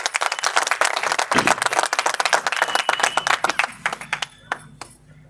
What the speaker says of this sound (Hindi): एक बार तालियां हो जोरदार।